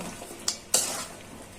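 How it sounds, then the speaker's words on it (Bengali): Prawns, spices and Malabar spinach stems sautéing in a pan, with a soft low sizzle and two brief sharp stirring scrapes against the pan. "ভালো করে মাছ মশলা আর এই ডাঁটাগুলো যেন কষানো হয়ে যায়"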